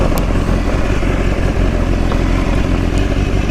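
A 2015 BMW S1000RR, a 200-horsepower sport motorcycle, runs steadily and loud throughout, with a dense continuous engine roar and slight fluctuation, close to the listener and without talk.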